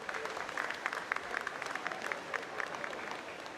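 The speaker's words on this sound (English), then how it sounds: "Round of applause for them." A crowd applauds after a varsity boys basketball game between Vineland and Millville in a gym, a steady wash of many hands clapping at moderate distance, holding even for a few seconds.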